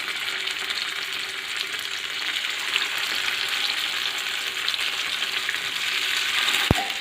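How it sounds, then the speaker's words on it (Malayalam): Chicken pieces frying in oil in a pan for a Kerala dum biriyani, giving a steady, fairly loud crackling sizzle throughout with one sharp tap near the end and no talking. "ഇനി നമുക്കിതേ പാനിൽ തന്നെ ചിക്കൻ ഫ്രൈ ചെയ്തെടുക്കാം."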